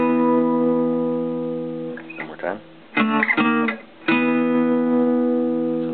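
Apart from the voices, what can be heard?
electric guitar two-note power chords, a song riff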